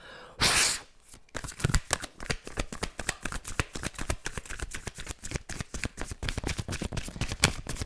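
A deck of cards shuffled for a tarot love reading: a brief riffle burst, then a long run of rapid, close, crisp card flicks and slaps in a steady rhythm, with no talking.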